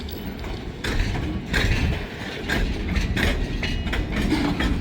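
A train rolling past a rural grade crossing near Iron Mountain, heard as a steady rumble with rhythmic clanking wheel and car noises that swell and recede, fairly close and alone without talk.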